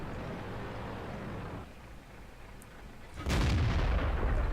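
A heavy tank cannon fires in an armored combat video game, a sudden loud boom that jumps in over a steady engine rumble and lingers as a broad, rolling blast after a brief quieter lull.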